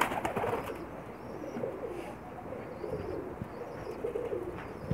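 Pakistani pigeons cooing softly in low, murmuring bursts, fairly faint and steady, with no voices over them.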